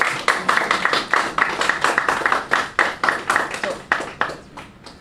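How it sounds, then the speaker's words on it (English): A small group claps at a school quiz event, producing a steady rhythm of distinct, moderately loud hand claps that gradually thins and fades. "So everybody, a round of applause again."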